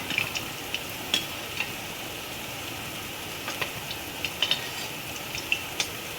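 Bottle gourd koftas fry in oil over a medium gas flame, giving a steady, quiet sizzle with scattered small pops and crackles and no talking.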